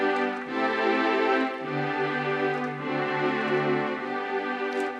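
A Ghanaian worship-style piano progression with no diminished passing chord moves through several sustained, ringing chords, full and clear, played close at an unhurried pace with no talking.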